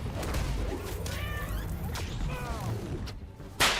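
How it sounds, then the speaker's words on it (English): A cat meows several times in a PS5 video game as it is petted, with rising and falling cries over a steady background of game sound and a sharp hit near the end. "any game that lets you pet a cat gets a 10 out of 10 from me"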